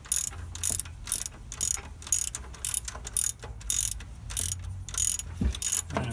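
A ratcheting socket wrench clicks in steady, repeated strokes as it drives a bolt into the alternator bracket of a 1983 GMC K1500 Sierra Classic, each burst of ratchet teeth close and crisp.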